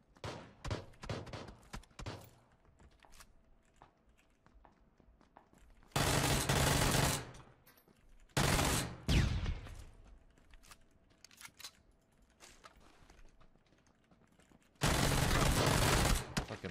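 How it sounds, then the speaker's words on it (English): Shotgun fire in the battle game PUBG, with three loud, dense blasts of gunfire standing out over quieter rapid clicks, footsteps and mechanical handling noises, close and harsh. "I just headshot him with a shotgun and then hit him again"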